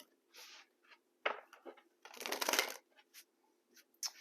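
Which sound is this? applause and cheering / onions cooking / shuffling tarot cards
shuffling tarot cards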